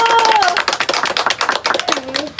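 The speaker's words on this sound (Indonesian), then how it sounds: "Tepuk tangan dulu" A group of children and adults claps together in a classroom word-learning session, a dense, steady patter of hands that runs the whole time under overlapping voices.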